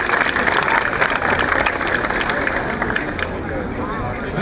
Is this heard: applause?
yes